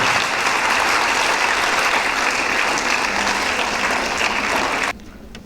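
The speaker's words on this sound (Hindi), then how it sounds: "आप सभी से दरख्वास्त करता हूँ कि ज़ोरदार तालियों से उसकी तारीफ कर दें।" Loud, dense applause from the audience at a Sir Syed Day bicentenary celebration, a continuous roar of clapping that holds steady and then drops off abruptly near the end.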